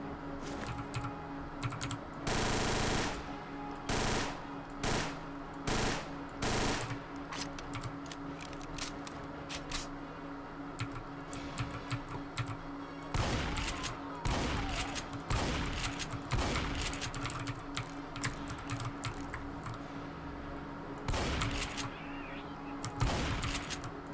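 Gunfire in a Resident Evil 2 Source mod video game, with repeated sharp shots in short bursts and single cracks at irregular intervals, mixed with rapid keyboard clatter and a steady background hum.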